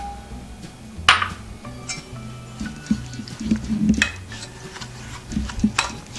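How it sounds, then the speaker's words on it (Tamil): A spoon stirs rava semolina into curd in a bowl, making soft scraping rubs broken by scattered metallic clinks against the rim. "இப்போ நம்ம ரவையை நல்லா மிக்ஸ் பண்ணிக்கலாம்."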